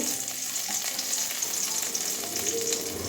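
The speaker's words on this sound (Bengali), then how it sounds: "এবারে ফোড়নে রসুন ছোট করে নিয়েছি" Chopped garlic fries in hot oil as a tempering for a red amaranth curry with potato and eggplant, giving a steady close crackling sizzle with faint stirring scrapes and no voices.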